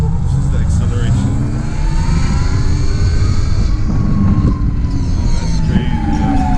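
A Sur Ron electric dirt bike accelerating hard in sport mode, a loud sustained motor whine and wind rush with rising tones, close to the rider, with talk mixed in.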